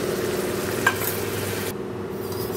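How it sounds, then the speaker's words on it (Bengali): Sauce poured into a frying pan of lightly fried chilli chicken, a continuous close sizzle with a brief splash near the start, then steady frying. "তো আমি এখন এই সসটা দিয়ে দেবো।"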